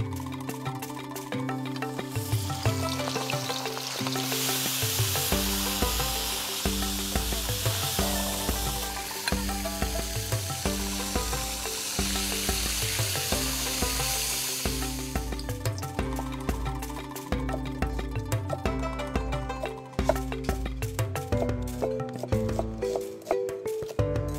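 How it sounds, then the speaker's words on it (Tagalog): Soft shell crabs dredged in cornstarch fry in hot oil with a steady, loud sizzle. It continues for the whole stretch, with the hiss swelling brighter for several seconds in the middle. Music plays underneath. "Ready na yung mantika natin. Ready na rin yung ating soft shell crabs."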